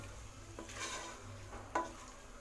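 Chana being sautéed and stirred with masala powder in a pan, giving a soft, steady sizzle with scraping stir strokes and one sharper clack near the end; no talk.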